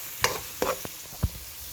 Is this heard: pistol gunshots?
no